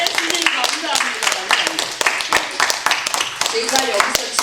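A congregation at a Korean church Sunday worship service claps vigorously, dense rhythmic applause with voices mixed in throughout.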